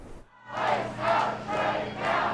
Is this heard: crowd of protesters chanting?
yes